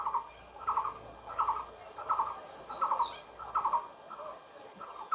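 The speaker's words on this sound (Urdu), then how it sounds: "ابھی آپ ان پرندوں کی آوازوں کو سنیں۔" Birds outdoors in nature call in a steady repeating chirp about once every half second, with a brief higher twittering song in between, all moderately distant with no voices.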